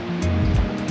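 The River Goit flows through woodland in a broad, close rush of water, with a few brief gusty swells over the steady wash.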